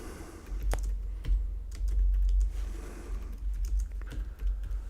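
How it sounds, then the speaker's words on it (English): Close, steady typing on a computer keyboard, with uneven runs of light key clicks over a low hum. "you can type something else."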